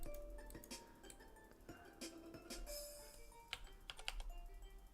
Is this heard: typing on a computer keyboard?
yes